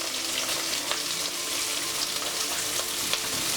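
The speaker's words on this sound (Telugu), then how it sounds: "ఉల్లిపాయలు లైట్గా ఫ్రై చేసుకోవాలి" Two medium onions sizzle in hot oil in a pan, a steady soft crackle with scattered small pops, fairly faint and close, no voices.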